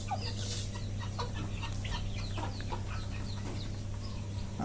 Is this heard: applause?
no